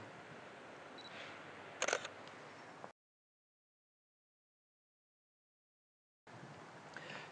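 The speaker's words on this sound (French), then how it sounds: "Je vais reprendre la même photo." A single camera shutter click during a photography lesson on exposure, the same shot retaken at a lower exposure value; one sharp click over a faint room hiss, then near silence.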